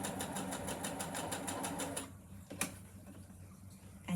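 A sewing machine top stitches fabric in a small home sewing business, a steady close rhythmic whirr of needle strokes for about two seconds before it stops and a quieter room hum remains.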